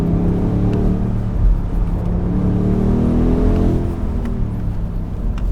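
A BMW M850i xDrive Cabriolet's V8 engine droning steadily and fairly loud through a slight oversteer, with a smooth rising and falling pitch that holds continuously throughout.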